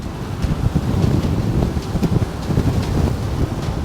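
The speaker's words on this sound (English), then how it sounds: "too windy this direction" Steady wind buffets the microphone with a continuous low, rumbling roar and gusty fluctuations throughout, with no voices.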